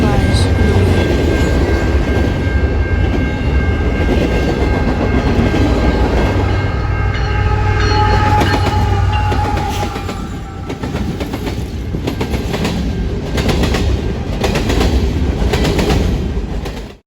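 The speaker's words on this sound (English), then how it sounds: "we caught a northbound manifest with a Gevo and two SD75Is in the lead" A northbound freight manifest led by a GE Evolution Series locomotive and two SD75I units rumbles past, loud and close, with the roar of the engines, grinding wheel noise and clattering wagons that stay steady before easing off toward the end.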